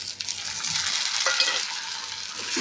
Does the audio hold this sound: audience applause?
no